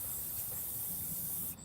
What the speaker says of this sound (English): gotta spray it a little bit more.